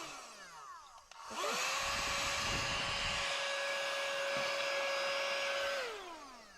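A small vacuum cleaner switches on with a rising whine, runs at a steady high-pitched drone for several seconds, then powers down.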